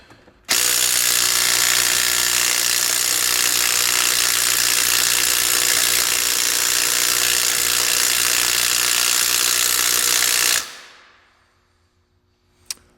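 A DeWalt DCF813 12V 3/8-inch impact driver hammers on 10 mm fasteners in one continuous, loud, buzzing burst of about ten seconds, then winds down and stops.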